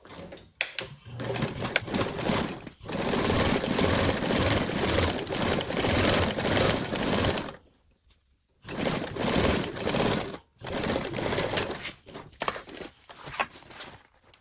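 A sewing machine runs a 1/4 inch seam joining two fabrics right sides together for a tote. It whirs in several long bursts with brief stops between them, close and fairly loud.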